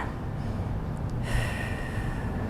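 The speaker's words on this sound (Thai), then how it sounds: "หายใจออก" A single sharp breath pushed out through the nose during an abdominal-tightening exercise for diastasis recti, close and short against a low background hum.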